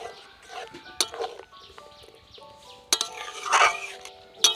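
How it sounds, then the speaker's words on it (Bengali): A utensil stirs boiled rajma through spiced oil in a pan, giving sparse metallic clinks and knocks against the pan with soft scraping in between, fairly quiet and close. "রাজমাটা দিয়ে কিন্তু ভালো করে এরকম নেড়ে দিতে হবে।"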